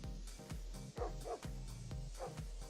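A dog barking sound effect used for a character named Celestine, several deep boof-like barks at a steady rhythm over a busy musical background.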